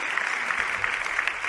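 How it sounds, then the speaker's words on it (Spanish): A brief, steady wash of dense audience clapping welcomes a guest onto a stage, heard on its own without voices. "Así que le damos un aplauso"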